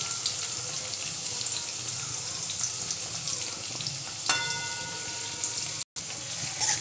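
Chopped onion and curry leaves sizzling in hot oil with cumin for kanda poha, a steady close hiss of frying with stirring scrapes, briefly cut off near the end.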